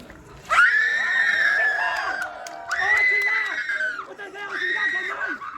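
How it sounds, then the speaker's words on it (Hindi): A woman screams in an outdoor street play about an acid attack, three long piercing cries in a row, loud and close, with crowd noise underneath. "चिल्ला चिल्ला।"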